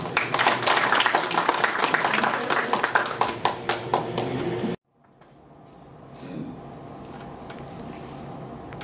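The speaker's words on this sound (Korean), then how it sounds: "다시 한번 큰 박수 부탁드립니다." An audience at a Korean energy policy forum gives a burst of dense, loud applause that cuts off abruptly after nearly five seconds, leaving the quiet hush of the hall.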